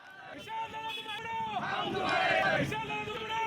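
Congress party workers celebrating outside the district collector's office in Sangli, chanting slogans as a crowd: a mix of raised voices and shouts swelling louder over a few seconds, with a reporter talking over it.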